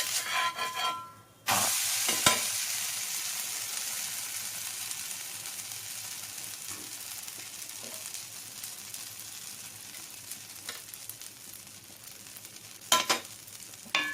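Dosa batter sizzles and fries steadily on a hot pan over medium flame, a fine continuous crackle with a couple of sharp scraping or flipping sounds near the start and end.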